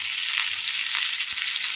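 Chana dal sizzles sharply in hot oil after mustard seeds have popped, a bright, close tempering hiss that holds steady before cutting off abruptly.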